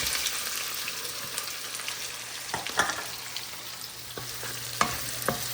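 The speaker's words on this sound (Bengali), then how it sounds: "তো এখন আমি চিংড়ি মাছটা ভুনা করব, সেই জন্য বেশি করে পেঁয়াজ দিয়ে দিচ্ছি" Prawns and plenty of onions fry in a pan with a steady sizzle, broken by several close scraping stirs of the spatula and no voices.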